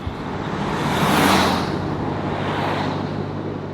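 A diesel pickup truck on a scenic coastal road trip along Nova Scotia's Cabot Trail, heard from inside as a steady rumbling drone with road and tire noise that swells slightly midway.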